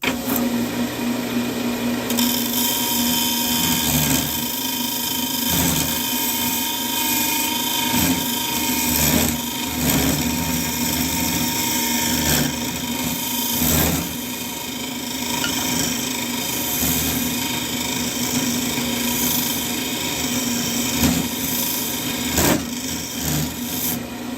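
A wood lathe spins a segmented cherry vessel while a tool rasps and scrapes against the turning wood, a steady loud grinding hum with a constant tonal drone and repeated scraping passes, no voices.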